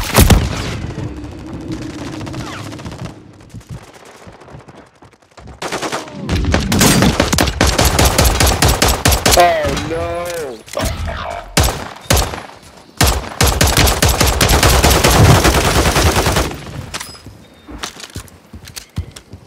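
Video game gunfire in a battle royale match with gas zones: dense automatic bursts and single shots crackle loudly and nearly nonstop, with brief gaps and a few faint game voice effects.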